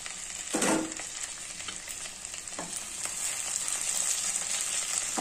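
Capsicum is stirred in hot oil, with a spatula scraping once and then a steady, loud sizzle and crackle of frying continuing throughout, no voices.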